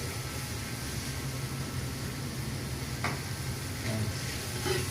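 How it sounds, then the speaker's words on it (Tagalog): Chopped garlic browns in a hot frying pan for pork salpicao, giving a steady, even sizzle and crackle that never stops. No one speaks over the cooking noise. "Pa-brown po natin yung bawang para makita natin."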